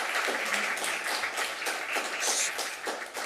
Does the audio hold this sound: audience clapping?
yes